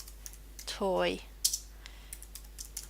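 Computer keyboard keys tap in a short, uneven run of light clicks while using a text tool in an image editing program, following a brief spoken word.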